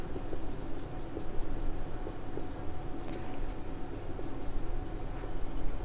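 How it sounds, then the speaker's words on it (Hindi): Someone handwrites the name of an enzyme, peptidyl transferase, during a biology lesson on ribosomes, producing continuous close scratchy pen or marker strokes over a steady background hiss, with no speech. "अगर मैं इसका नाम लिखना चाहूँ तो मैं लिख सकता हूँ"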